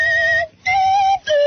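A person imitates Kenny G's saxophone instrumental of My Heart Will Go On, crooning three loud, sustained, whistle-like tones separated by brief breaths.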